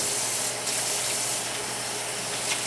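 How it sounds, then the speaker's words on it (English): Tap water runs steadily and close by during handwashing in a home kitchen before making pork carnitas, a continuous hiss with no break and no talking. "let's wash our hands"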